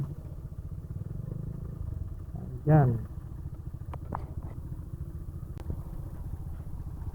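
A motorcycle engine idles steadily throughout a long-distance ride from Cavite to Bicol, Philippines, a low continuous rumble beneath a man's brief speech and some clattering.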